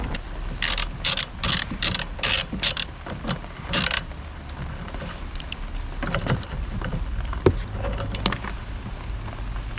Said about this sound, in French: vous allez prendre un embout de 13 pour démonter les essuie-glaces